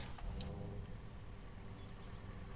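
A truck engine idles and drives in the Farming Simulator 22 video game, heard as a quiet, steady, low rumble that stays even throughout with no speech.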